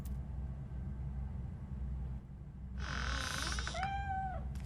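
A cat in the Robocop: Rogue video game gives a short, clear meow followed by a second rising, wavering meow over a low steady background hum.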